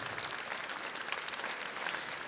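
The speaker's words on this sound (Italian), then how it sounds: "Un applauso" An audience claps in a steady, dense round of applause for the technical crew at a Sardinian choral concert for Sant'Efisio, sustained and fairly close, with no talk over it.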